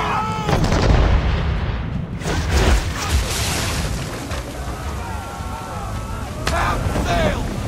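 Ship cannons boom in a naval battle in Assassin's Creed 3, heavy blasts rolling over a continuous roar of sea and wind, with shouted voices mixed in.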